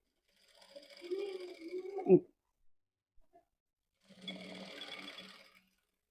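A sewing machine stitching a blouse collar runs in two short bursts of fast mechanical whirring, separated by a sharp clunk and a pause, close and fairly quiet.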